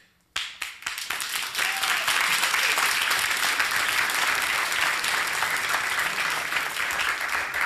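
Sustained applause from a concert audience, starting abruptly and holding loud and dense with crisp overlapping claps throughout.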